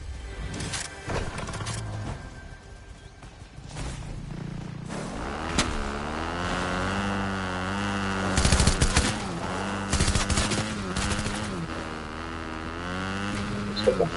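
Rapid machine-gun fire rattles out in repeated bursts during a shooter video game, set against a constant mechanical drone and tonal game sounds at a moderate, steady level.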